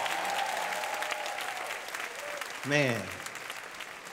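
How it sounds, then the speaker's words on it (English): Audience applause at a senior women's pageant, a steady sustained clapping from the crowd, with a brief spoken word and a short sliding tone rising out of it near the end. "For that courage, let's give another round of applause."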